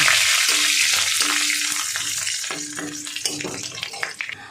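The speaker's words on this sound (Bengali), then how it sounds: "এবার আমি কিছুটা কারি পাতা দিয়ে দেবো। দিয়ে একটা লো ফ্লেমে একটু ভেজে নেব" Curry leaves and black mustard seeds frying in oil over a low flame for a tempering, a loud, steady hiss with scattered pops and crackles up close, fading slightly toward the end.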